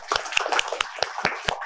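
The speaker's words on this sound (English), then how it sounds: "So big round of applause for them to start with." Sparse applause breaks out at a startup ecosystem panel event, a handful of distinct claps at an irregular pace, close and dry, with no crowd roar.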